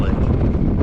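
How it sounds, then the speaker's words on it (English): Strong wind buffets the microphone beside Bull Shoals Lake on a chilly winter day, a loud continuous roar and rumble with gusty swells and no pause. "It got really, really windy."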